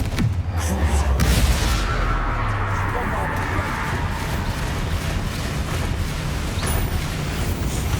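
A Confringo fire spell going off in Hogwarts Legacy, a loud, sustained explosive roar with rumbling bursts and crackles that die slowly, under game sound and speech.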